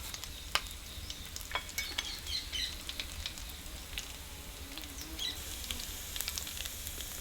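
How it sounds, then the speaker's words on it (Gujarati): Cumin seeds sizzling in hot ghee for a tempering, a steady fine crackle with scattered sharp pops and light stirring, close and fairly quiet with no voices. "હવે આપણે ઘી તો ગરમ થઈ ગયું છે, આ જીરું નાખી દઈએ."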